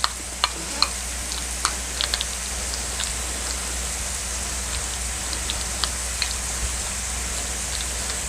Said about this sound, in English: the idea is we're going to mix this up and turn this kind of into a cheese topping